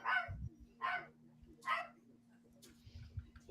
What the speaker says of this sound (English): The guard dogs go off on Gabion